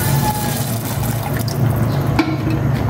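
Water broth poured into a cooking pot with salt and half a bouillon cube, a close, continuous splashing and trickling pour that lasts a few seconds.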